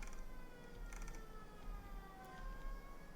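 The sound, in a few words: ambulance sirens in Workers & Resources video game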